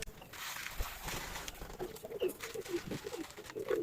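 Pigeons coo in low, repeated murmurs while they are fed a mash and paddy grain mix, with several short calls toward the end over a steady background rustle.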